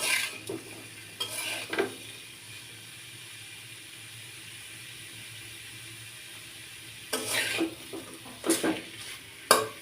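Bitter gourd and potato frying in a pan with a steady, quiet sizzle, broken by a few short bursts of stirring and utensil scrapes near the start and end.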